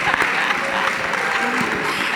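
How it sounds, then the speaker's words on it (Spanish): Steady applause from a group of women fills the whole stretch, dense, even clapping at moderate loudness with a faint voice mixed in. "Las mujeres aplauden."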